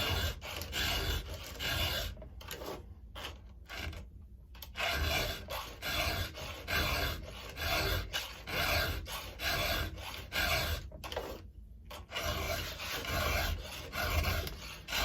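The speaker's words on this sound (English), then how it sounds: "sharpen that tooth till it is sharp" Rapid rasping strokes of a round file sharpening chainsaw chain teeth, a close, repetitive scraping rhythm with brief pauses between sets of strokes.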